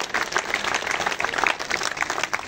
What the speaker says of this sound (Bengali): আমি স্যারের জন্য জোরে একটা করতালি আশা করব।